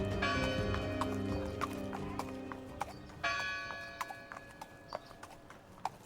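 Horse hooves clip-clop in a steady walking rhythm over a sustained musical backdrop with bell-like tones, the hoofbeats growing more distinct as the music thins out.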